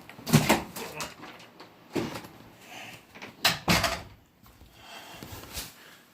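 A door being shut indoors, a few sharp wooden knocks and thuds scattered across the clip, with handling noises in between and no talk.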